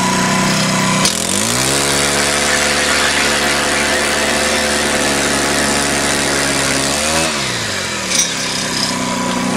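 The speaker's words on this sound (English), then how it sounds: "it's important with a power auger to let it run for about a minute so it doesn't stall out" A power ice auger's small engine starts with a sharp pull, then revs into a loud, steady mechanical whine that holds for several seconds before winding down, close to the microphone.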